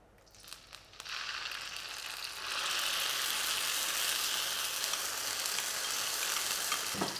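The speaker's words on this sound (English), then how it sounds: "we're just going to go in with the curry paste, and obviously you want the oil to be nice and hot, so then we're going to fry it off" Curry paste frying in hot oil for a Singapore chicken curry, starting quiet with a few clicks, then a steady sizzle that grows louder and fuller after a couple of seconds and continues evenly.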